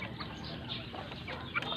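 Flock of backyard chickens clucking steadily while being fed grower feed, a close, continuous chorus of soft clucks with a few sharper calls near the end.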